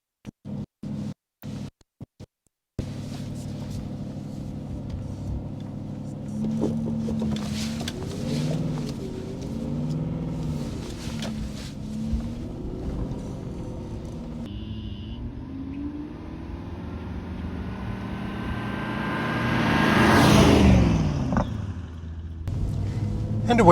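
A 2006 Aston Martin V8 Vantage drives along the road with a steady engine drone that rises and falls through gear changes and swells in a louder surge near the end, while someone talks over it.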